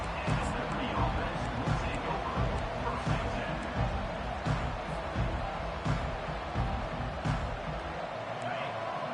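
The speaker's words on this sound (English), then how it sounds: "listen to this crowd noise. This stadium is vibrating." A loud, continuous roar from a large football stadium crowd fills the space, rumbling and swelling slightly, with voices mixed into the din.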